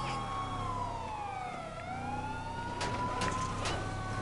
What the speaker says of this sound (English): why am I having the siren on?